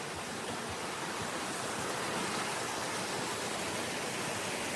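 A creek flows beside a wooded Paris Mountain hiking trail, a steady, even rush of water filling the scene with constant hiss and no pauses.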